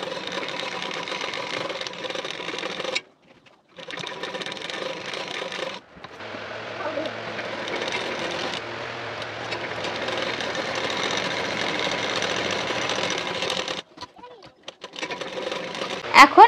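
Sewing machine stitching a boat-neck blouse sleeve, a loud, close mechanical run in several stretches separated by short stops.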